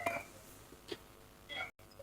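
Telephone line tones on a Thai radio call-in program: a few short beeps and clicks spaced apart, ending in a brief dropout, fairly faint.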